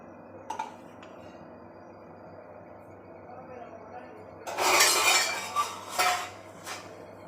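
A metal lid clanks onto a pot of simmering bitter gourd tamarind curry with a few quick clinks and rattles after a quiet stretch, close by.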